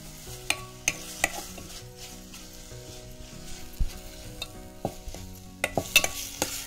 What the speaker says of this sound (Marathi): आता हा जवला वाटीभर आपण जवला धुवून घेतलेला तो याच्यामध्ये मिक्स केला आणि तो या मसाल्यामध्येच फ्राय करायचा सोनाली